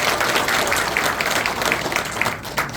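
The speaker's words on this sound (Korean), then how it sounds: "우리 강사님 오실 때 우리 큰 박수 한번 부탁드리겠습니다" Dense, steady applause from a large conference audience welcoming a lecturer to the stage, filling the whole moment with continuous clapping and no speech over it.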